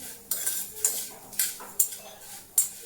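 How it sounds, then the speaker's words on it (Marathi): A ladle scrapes and stirs jaggery in a metal kadhai, giving a series of sharp, close scraping strokes at a steady pace with quiet gaps between them and no voices. "आणि त्याला सारखं हलवत राहावं लागतंय."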